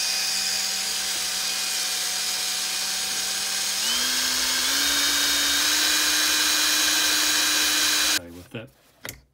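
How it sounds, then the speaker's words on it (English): A power drill bores a pilot hole while fitting Commodore seatback clips, its motor whining steadily close by with one rise in pitch partway through, then it stops and a few short knocks follow. "That pilot hole drilled, I will now use a 3 millimeter bit."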